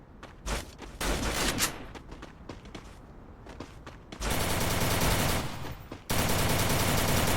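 Video game gunfire during a fight: bursts of automatic fire crackle in rapid rhythm, some sustained volleys loud and close, with no talk over them.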